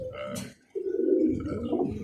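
Birmingham Roller pigeons in a loft give low, soft cooing, a short burst, a brief pause, then a longer murmuring coo rolling on steadily at moderate closeness.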